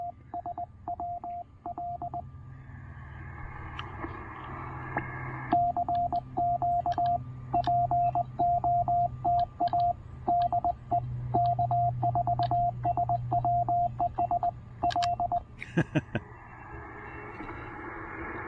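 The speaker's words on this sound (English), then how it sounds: "You're hearing a little bit of CW off to the sides." Steady CW Morse code tones on an amateur radio receiver running a wide filter during a QRP session with a TR-45 transceiver and end-fed random wire antenna, with keyed dit-dah beeps repeating over a hissy band alongside fainter off-frequency signals.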